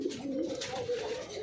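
Pigeons coo in a 20-compartment coop where some birds sit on eggs beside chicks, a soft continuous warbling coo that holds steady and close throughout with no talk over it.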